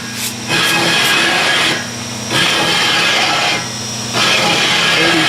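A machine cuts a steam speeder wheel at 32 RPM in a heavy pass, sending out a steady grinding, scraping roar that repeats in three long cutting bursts with short quieter gaps between them.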